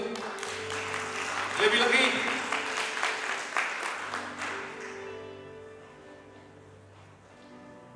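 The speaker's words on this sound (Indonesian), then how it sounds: "Tepuk tangan untuk Tuhan." Congregation in a church service applauding, a burst of clapping lasting a few seconds under a preacher's voice, then tapering as sustained music carries on.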